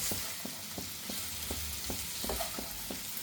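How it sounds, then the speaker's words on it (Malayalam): Okra stir fry with peanuts sizzles over a high flame while a spatula stirs it, producing regular light taps and scrapes about every third of a second over a constant frying hiss, close up and unaccompanied by voices. "ഒന്ന് ഇളക്കി കൊടുക്കുന്നു"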